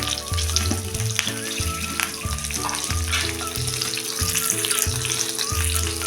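Bhavnagari-style stuffed masala chillies fry in a pan over a low flame, giving a steady, close sizzle that runs the whole time beneath soft background music.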